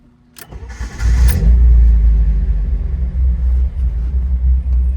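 A 1977 Alfa Romeo Alfetta 2.0 GTV fires up after a brief crank, catching with a loud rumbling burst before settling into a steady, deep idle close by.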